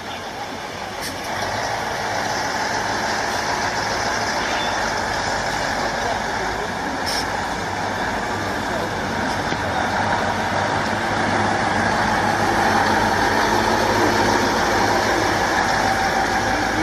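A column of military trucks carrying National Guard troops rolls past on a city street with a steady, loud engine and tyre rumble that swells slightly toward the end, trolleybuses stopped nearby.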